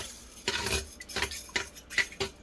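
Spoon scraping and clinking against a pot while stirring jasmine rice in water, a few uneven strokes close by with no talking.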